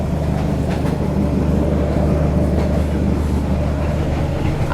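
A passenger train rolls slowly through the Vietnamese countryside with a steady low rumble and soft rhythmic clatter. The sound is heard from inside a coach, continuous and moderately loud, with no talking.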